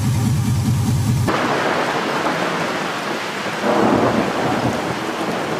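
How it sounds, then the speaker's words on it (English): A close lightning strike sets off a sudden loud thunder crack that rolls into a heavy rumble, with steady rain pattering on surfaces throughout. "Man, that was a big lightning bolt."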